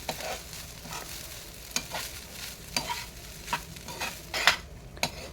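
Capsicum egg rice gets stirred in a hot pan, with a soft sizzle under regular scraping strokes of a spoon and a few sharper metal clinks, close and with no voices.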